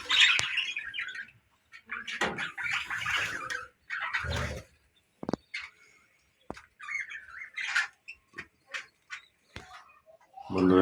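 Pet budgerigars kept in cages on a balcony squawk and chirp in sharp, scattered bursts close by, with short silent gaps between the calls and no voices.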